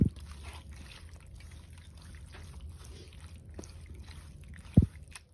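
Water is poured into a pan holding raw oil while small fish are cooked in a village kitchen: a soft, steady trickle runs throughout, close by, with a sharp thud near the end.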